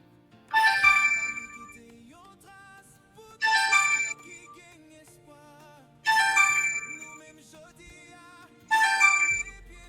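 A telephone ringtone plays four loud bright chiming bursts spaced roughly three seconds apart, each fading out before the next, with no talking over it.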